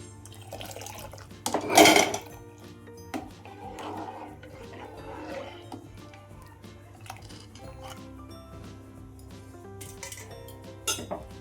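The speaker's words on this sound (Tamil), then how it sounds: "இப்போ தேங்காய் பாலை ஊற்றிக்கிறோம்" Coconut milk pours and splashes into a pot of boiling masala for mutton trotter paya amid light clinks of utensils, with a loud metallic clatter early on.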